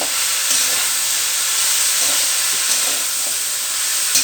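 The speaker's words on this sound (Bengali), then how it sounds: "পেঁয়াজটা দিয়ে একটু ঢেঁড়স আর পেঁয়াজ একটু ভাজা ভাজা করে নেব।" Okra and onions frying in a pan, a steady, loud sizzle with a continuous hiss and faint stirring scrapes, no voices.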